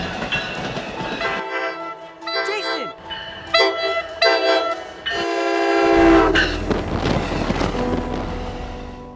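A New Jersey Transit train approaches with its horn blaring in long loud blasts over rumbling wheels and clacking, close and growing louder, with voices heard around it.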